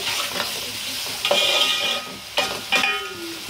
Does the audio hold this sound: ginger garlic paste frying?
yes